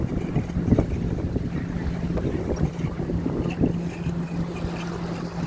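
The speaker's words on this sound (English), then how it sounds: "wind is blowing pretty consistently right now, about 10-15 knots" Wind blows steadily at about 10-15 knots over a sailboat on a solo trip toward Burlington, Vermont, a constant close rushing with buffeting on the microphone and a low hum underneath, no voices.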